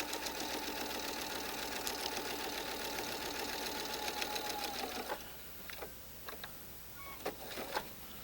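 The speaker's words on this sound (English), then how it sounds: "We're stitching right on the orange line" Sewing machine running a quilt block seam along a marked line, a fast even mechanical whir close by for about five seconds, then stopping, followed by a few faint clicks and handling noises.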